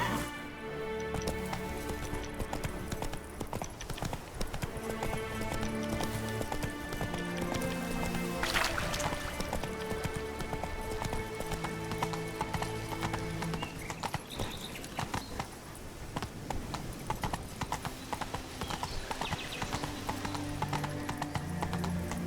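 Horse galloping in The Witcher video game, a fast continuous clip-clop of hooves under a steady bed of music, with an occasional whinny-like burst midway.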